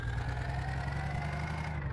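A Mahindra tractor engine in an Indian tractor game hums steadily at idle, with an even, droning low rumble and no change in pace.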